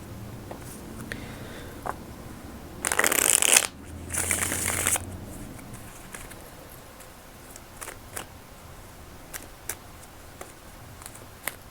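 A deck of cards is shuffled close up in two quick riffle bursts of brisk fluttering, followed by soft scattered taps and handling in a quiet room.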